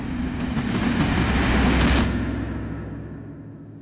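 A train rushes past on a railway, a loud, dense roar with low rumble that peaks and then fades away as it recedes.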